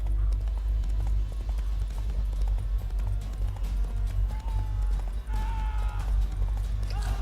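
Horse hooves gallop in a rhythmic clip-clop in the video game The Witcher 3: Wild Hunt, steady and close over a low rumbling background.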